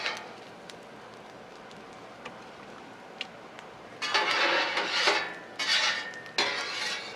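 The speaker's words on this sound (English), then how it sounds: "with two scrapers and with two spatulas, I can pick them up nice and gentle" Metal scrapers and spatulas scraping and lifting bacon off a hot outdoor griddle at an RV campsite: a few faint clicks at first, then bursts of loud, close scraping and sizzling in the second half, with no talking.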